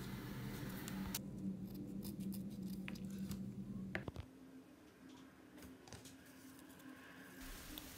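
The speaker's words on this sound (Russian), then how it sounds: "Отрезаем два кусочка декоративного скотча" Short snips of scissors cutting two pieces of decorative tape, a few crisp clicks near the start and middle over a low room hum, close and fairly quiet.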